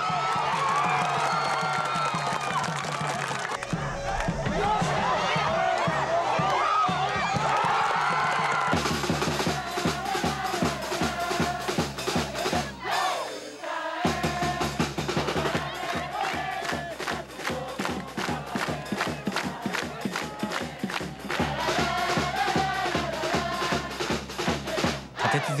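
Football supporters and ultras at a Yamaga match roar and chant in the stadium, a loud, sustained crowd din with rhythmic chanting, whoops and shouts rising and swelling throughout.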